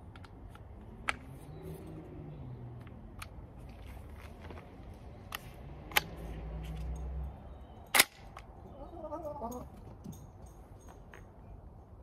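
ASG Scorpion airsoft electric gun firing single semi-automatic shots, sharp isolated cracks spaced irregularly over a quiet room background, one shot notably louder, with faint mechanical handling noises between and no talk.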